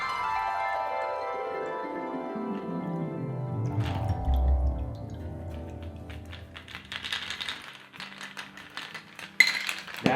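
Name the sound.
pouring a cocktail into a glass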